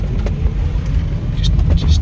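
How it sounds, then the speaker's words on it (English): A REVA G-Wiz electric car with a 60-volt lithium-ion conversion drives along, giving a steady low road rumble and wind buffeting from inside the cabin, with a few brief squeaks; someone speaks over it. "it's driving pretty well at 60 volts"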